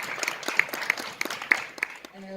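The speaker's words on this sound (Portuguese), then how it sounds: "Palmas aí para a Sandra." A small audience at a film club session claps for a speaker, giving a sparse, uneven scattering of separate hand claps, fairly faint, that fades out after about two seconds.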